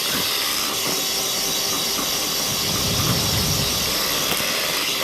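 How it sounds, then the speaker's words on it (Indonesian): An electric mixer runs at its lowest speed through nastar cookie dough of butter, sugar and milk, giving a steady, close, unbroken whirring hiss. "Ini pun saya pakai mixer dengan kecepatan yang paling rendah, speed yang paling rendah."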